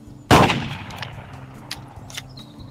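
In a VR skeet shooting video game, a shotgun fires one sharp, loud shot at a clay target. The blast decays quickly into quiet background noise with a few faint clicks.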